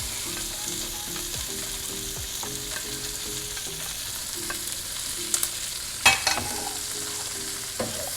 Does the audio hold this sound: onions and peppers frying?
yes